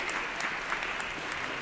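Brief, steady applause from the Assembly floor during a session honoring a student, an even wash of many hands clapping with no voices on top.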